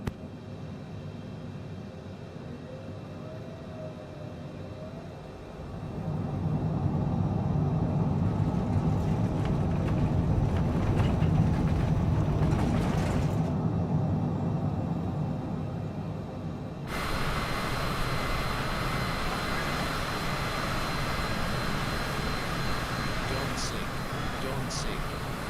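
F-117 jet in Microsoft Flight Simulator 2020 spooling up and rolling for takeoff on runway 21, a low engine rumble swelling into a loud roar, then shifting to a bright, steady hissing whine.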